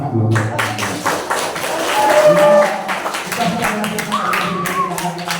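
Audience applause at a traffic-ethics outreach session held by the Katingan police traffic unit, a dense patter of clapping running throughout with voices talking over it.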